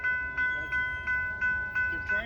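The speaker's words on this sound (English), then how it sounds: "Another train." A railroad crossing in Fredonia, New York as a train passes, with the crossing bell ringing in a steady, even rhythm of about six clear metallic strikes, moderately near and loud, with no talk.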